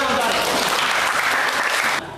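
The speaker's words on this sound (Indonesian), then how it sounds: "Ya, bagus, tepuk tangan." A junior high school class in an Indonesian language lesson breaks into brisk, dense applause that cuts off abruptly near the end.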